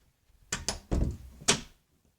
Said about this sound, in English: Probably close the door.